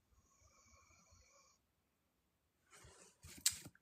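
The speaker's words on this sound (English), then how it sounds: "Nice and smooth. Just like Layla's snoring." A sleeping dog snores with slow, rasping harmonic breaths, faint and close, followed by a pause and then a brief louder snort or rustle near the end.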